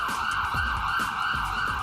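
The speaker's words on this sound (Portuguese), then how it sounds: "Pode colocar a sirene rapidamente." Wailing emergency siren sound effect inserted into a TV news program, a steady loud electronic tone sweeping up and down continuously, with no speech over it.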